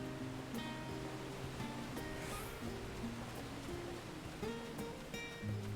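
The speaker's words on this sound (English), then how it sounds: "Ooh, waterfall." A waterfall in the Final Fantasy XIV Endwalker video game rushes as a faint, steady wash of water under soft game music with gentle melodic notes.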